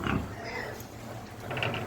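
Duroc and Landrace crossbreed pigs grunt and snuffle close by, with a couple of louder oinks at the start and again near the end over a steady low pen background.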